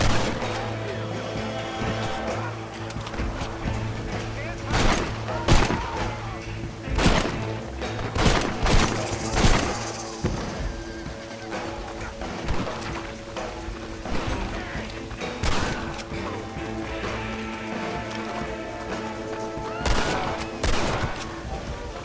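A gunfight in Red Dead Redemption, with enemy gunfire cracking in scattered bursts and volleys over a steady music bed, some shots close and loud, others lighter, continuing for over twenty seconds.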